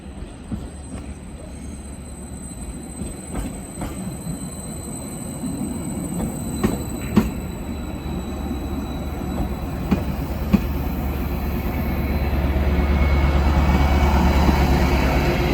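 A passenger train running on the Wherry Lines, heard from on board: a steady low rumble with rhythmic wheel clicks over rail joints, sharp squeals, and the roar building louder toward the end.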